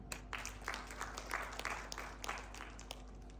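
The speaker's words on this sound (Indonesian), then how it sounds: "Tepuk tangan untuk Tuhan." Congregation clapping at a GBI Rock Cianjur church service, a steady patter of many hands, fairly faint and even across the room with a low hum underneath.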